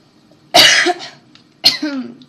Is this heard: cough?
yes